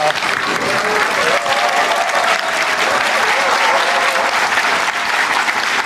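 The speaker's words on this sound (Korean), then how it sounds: "이렇게 열렬한 환호를 보여주는 걸로 봐서" Loud, dense applause from a large crowd at a Gangwon regional development forum, continuous and steady throughout, with scattered cheers mixed into the clapping.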